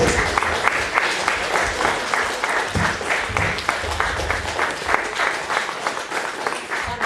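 Steady, enthusiastic applause from an audience at the closing of a concert inaugurating a University of the Third Age, many hands clapping continuously, full and loud throughout the stretch.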